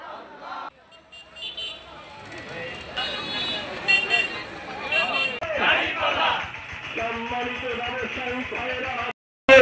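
At a Jamaat-e-Islami street campaign rally in Naogaon, Bangladesh, a large crowd loudly chants back in unison after the Nara-e-Takbir slogan, with shouted voices over road traffic and a car horn nearby.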